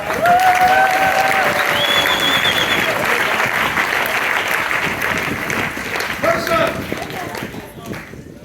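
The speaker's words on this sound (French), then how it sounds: "Je veux qu'on acclame ça." A church congregation applauds and cheers as a crowd, steady sustained clapping with some raised voices, loud and continuous throughout before tapering slightly at the end.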